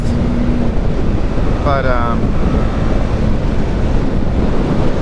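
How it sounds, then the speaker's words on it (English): Loud, constant wind roar buffeting a rider on a BMW 310 GS motorcycle with no windscreen, a dense rushing blast at speed with a brief voice breaking through. "So with no windscreen or wind protection, we're gonna get a lot of blast"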